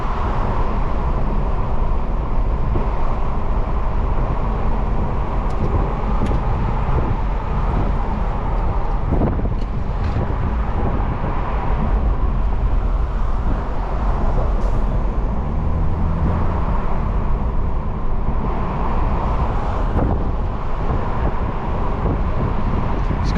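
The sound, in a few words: 2023 BMW Z4 30i car accelerating while driving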